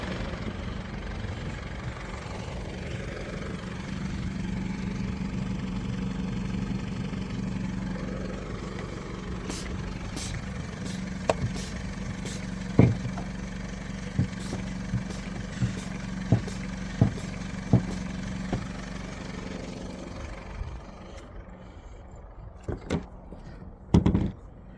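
An Isuzu D-Max diesel engine idling with a steady low rumble that runs the whole time, while sharp clicks and knocks come in near the end.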